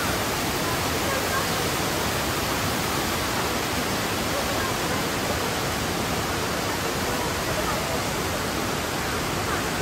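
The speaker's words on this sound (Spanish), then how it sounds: "Se está genial delante de las cataratas" The waterfalls near Mostar, Bosnia, roar in a continuous dense rush of falling water, loud and unbroken, with voices faintly mixed in.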